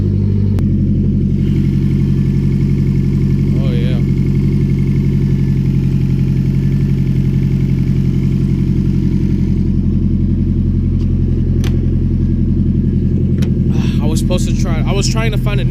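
A turbocharged Acura RSX engine idles steadily with its exhaust cutout open, a deep, throaty exhaust rumble that holds constant the whole time, loud and close, with a few faint clicks near the end.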